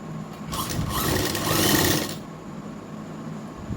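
Sewing machine stitching the side pocket of ladies' pants, a steady whirring run of about two seconds that swells slightly, then stops, leaving quiet room tone.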